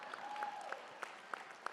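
A convention audience at a teachers' union gathering breaks into brief applause, a short spell of distant clapping that carries on faintly as a voice continues over it.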